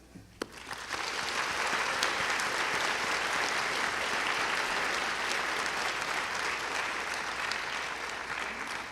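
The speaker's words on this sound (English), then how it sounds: "This is an applause from the graduates, and it's an applause of gratitude." At a spring 2022 university commencement in Rochester, Minnesota, graduates give a loud, sustained round of applause of gratitude for their friends and family, a dense wash of many clapping hands from a large crowd continuing steadily throughout.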